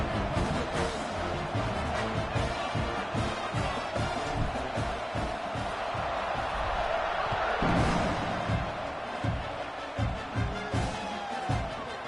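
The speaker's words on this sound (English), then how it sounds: "this crowd is buzzing after that last score" A college football stadium crowd buzzing after a touchdown in an Oklahoma versus Missouri game, a dense, steady roar of many voices with a commentator talking over it.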